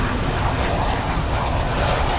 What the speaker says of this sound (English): I see a Santa Ana flight coming in, flight 3896